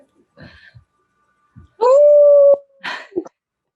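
A person imitates a wolf howling at the full moon during an online community safety committee meeting: one loud, sustained, steady howl lasting under a second, framed by brief yips and voice sounds before and after.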